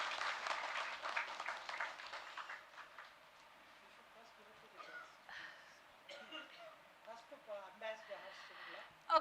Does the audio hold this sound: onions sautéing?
no